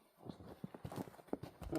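A horse fitted with an English harness collar walks with soft clip-clopping hooves, faint and close, in a brief uneven series of steps.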